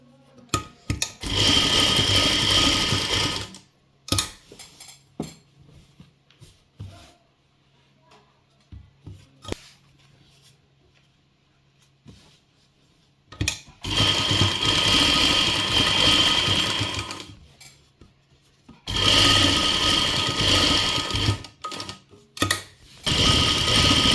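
A sewing machine stitches a neckline design on a garment in three sustained runs separated by quiet pauses with small handling noises. The motor whirs steadily and close by, with no talking.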